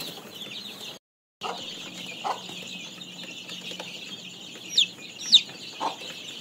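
Flock chickens being vaccinated cluck and squawk at moderate distance over a low, steady hum, with a few sharper calls standing out near the end.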